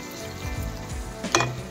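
Methi chicken fries in a pan for a Telangana-style dish, giving a steady close sizzle with stirring scrapes throughout and a brief louder hiss near the end.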